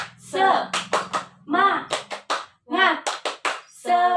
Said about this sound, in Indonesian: yuk kita tepuk semangat dulu bersama-sama